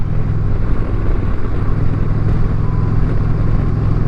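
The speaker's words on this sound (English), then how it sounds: "Can't believe how good it sounds for stock exhaust." A 2023 Indian Challenger Dark Horse motorcycle with stock exhaust gives a steady, loud engine drone with a constant low rumble, holding at an even pitch throughout without clear revving.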